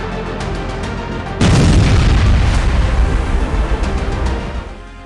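Russian artillery shelling of Ukrainian army positions: a single heavy boom strikes suddenly and rumbles on for a few seconds before fading, after quieter distant thuds.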